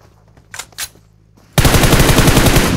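After a couple of soft thumps, a loud burst of rapid automatic gunfire sprays toward the player in PUBG Mobile, its dense rattle going on without a break to the end.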